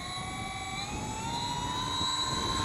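Propeller motors of an X-UAV Clouds RC plane running steadily at its maiden flight, a continuous loud whining drone with rising harmonic tones and no talking.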